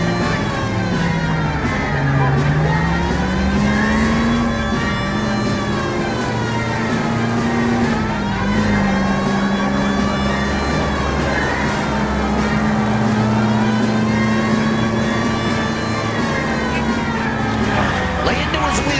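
Vintage cars racing in a chase in the video game LA Noire, a steady loud engine roar with a wavering siren-like wail throughout and voices speaking over it.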